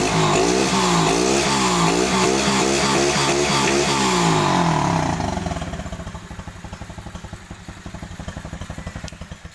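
A cheap pit bike engine, bought for $100, revs hard and loud in repeated rising bursts for about five seconds, then drops back to a steady, rapid idle putter close by.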